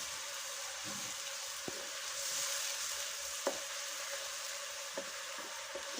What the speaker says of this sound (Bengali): এটা ভালো করে একটু কষিয়ে নিচ্ছি